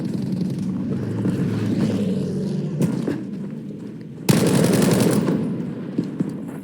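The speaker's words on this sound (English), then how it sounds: "Jamesy just firing straight towards the wall, picking up his old practice, target practice" Video game gunfire from a player shooting at a wall, rapid bursts of automatic fire with a sharp crack midway and a louder burst later, under continuous game ambience and a commentator's voice.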